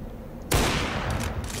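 A single sharp, booming sniper rifle shot goes off in Garry's Mod, loud and close, after a quiet moment, with a short decaying tail.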